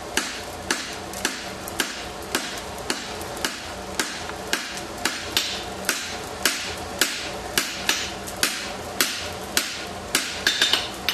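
A hammer draws out a quarter-inch steel bar on an anvil while forging a salmon sideweight, striking about twenty sharp metallic blows at a steady, even rhythm, close and loud, with no talk.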